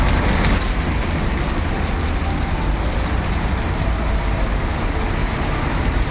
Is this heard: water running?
no